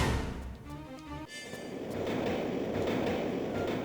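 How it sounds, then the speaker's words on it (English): A train rolls past in Tomb Raider Remastered, a rising rumble with a brief clatter that grows into a loud, steady roar of wheels on track. "Train coming for you."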